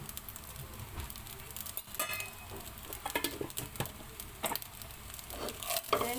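Fried rice made from leftovers gets stirred and mixed in a pan with a spatula, giving irregular scraping and clattering strokes over a soft sizzle, fairly close and moderately loud, with no talking.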